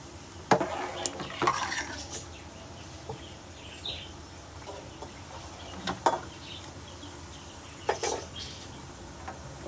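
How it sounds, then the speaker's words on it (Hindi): Coriander and garam masala being stirred into kadhi in a pot, with a few sharp spoon-against-pot clinks and scrapes spread over a quiet kitchen background. "इसको अच्छी तरह मिक्स कर लेते हैं।"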